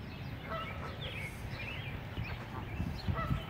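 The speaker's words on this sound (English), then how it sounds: "That goose is hissing at me." A goose hissing outdoors, with breathy rasping bursts and short honk-like calls at moderate level over a steady background.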